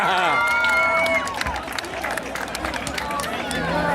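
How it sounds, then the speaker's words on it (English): Crowd at a car show burnout contest cheering and clapping, a loud mixed roar of shouts and applause with whistles and people talking over it. "You got to give her a round of applause just for that"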